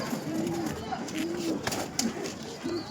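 Pigeons kept at a home loft coo in low repeated rolling calls, several soft phrases in a row, heard close under a person talking.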